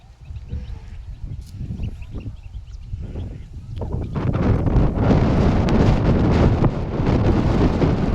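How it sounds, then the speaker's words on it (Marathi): Strong evening wind blows outdoors and buffets the microphone in loud, continuous gusts that grow heavier partway through. "किती वारा सुटलाय."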